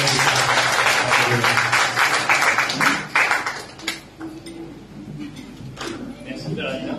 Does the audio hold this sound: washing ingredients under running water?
no